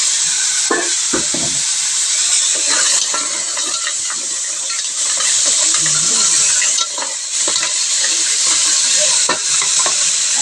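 Mussels (tahong) cook in a pot for tinola: a steady sizzle and bubbling runs throughout, with occasional clinks and stirring scrapes of a utensil against the pot, close and fairly loud.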